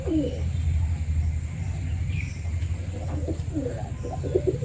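Kaldum fancy pigeons coo in a loft, soft throaty rolling calls repeating close by over a steady low background hum.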